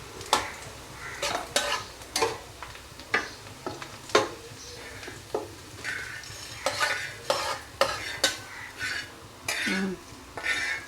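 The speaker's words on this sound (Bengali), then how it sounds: "পেঁয়াজটা আর একটু ভাজা হবে।" Onions frying in a pan for a chicken roast gravy, with a soft background sizzle broken by repeated scraping stirs of a spatula, irregular strokes every second or so, close and clear, no talking.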